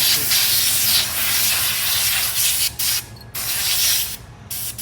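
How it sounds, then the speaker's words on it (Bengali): Motorbike parts being washed with kerosene during a cleaning service, a loud, close spraying hiss that runs continuously with a few brief breaks near the end. "প্রত্যেকটা পার্ট আগে আমরা এইভাবে কেরোসিন দিয়ে ধুয়ে নিচ্ছি"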